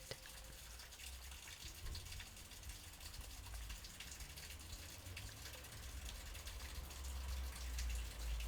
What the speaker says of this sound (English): there's lots of water pouring down in one place.